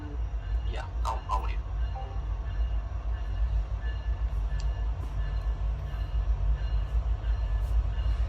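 A train rumbles past outside with a continuous low, heavy drone and some faint squeals, while a person speaks briefly indoors near the start.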